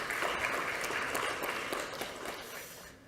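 An audience at a lecture on North Korean nuclear strategy applauds to welcome the speaker, a steady dense wash of clapping that tapers off toward the end.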